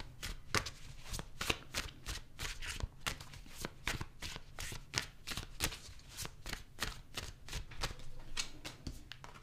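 Tarot cards are shuffled continuously at close range, a dense run of crisp riffling and slapping clicks at an irregular but steady pace, faint overall with no speech.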